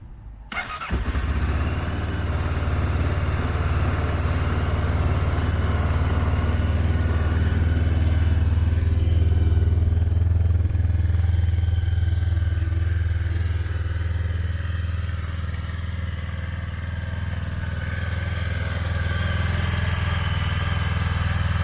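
A Honda CB500S motorcycle engine cranks and catches, then settles into a steady, loud, close idle with a deep even rumble that holds for about twenty seconds.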